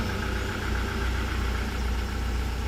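A 2014-2015 Toyota Fortuner VNT TRD diesel automatic idles close by with a steady, even low rumble and a faint knocking texture that holds unchanged throughout.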